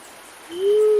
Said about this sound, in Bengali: আর মাঝে মাঝে ডেকে উঠছে